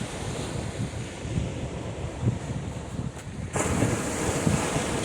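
Ocean waves wash in at the shore near a hillside skate park, a steady roaring surf with heavy wind buffeting the microphone that grows a little louder partway through.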